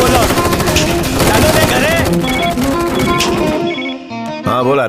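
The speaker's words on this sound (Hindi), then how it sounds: "सर, धड़ाधड़ गोली चला रहे हैं वो लोग।" Rapid bursts of gunfire crackle continuously over loud dramatic music in a Hindi action drama, the shots densely packed and close, fading out near the end.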